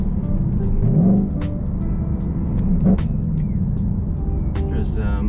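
Ford Mustang Bullitt 5.0 V8 engine droning steadily from inside the cabin with the windows closed, a continuous low rumble with slight swells, plus brief faint voice-like tones over it.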